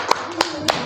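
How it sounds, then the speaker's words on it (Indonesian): A classroom applauds a classmate with a few short, sharp claps spaced apart, close and distinct against a quiet room. "tepuk tangan dulu untuk kawan kita"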